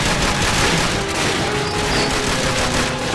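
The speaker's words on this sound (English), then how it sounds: "And that's a grenade." Combat in Call of Duty: Finest Hours brings a dense, loud barrage of blasts and gunfire that blends into a continuous roar, with a grenade explosion buried in it and no talking.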